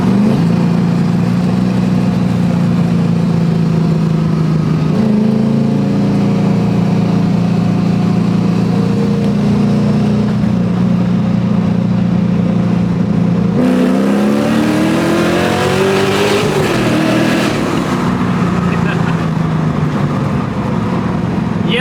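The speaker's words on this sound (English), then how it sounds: "We're coming up on a bridge. Giving some good exhaust clip sounds." Loud exhaust of an LSX-swapped 1977 Datsun 280Z droning steadily, then swelling and echoing as the car passes under a bridge, with the tone bending as revs shift.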